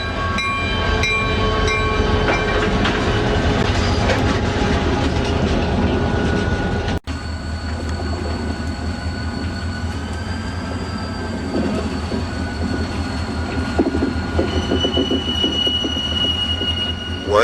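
A diesel locomotive, PREX 2032, pulls an Indiana and Ohio Railway SW1500 up the Kellar Branch, rumbling steadily with a heavy engine drone and rhythmic wheel clatter, loud and close, with faint high squeals from the wheels.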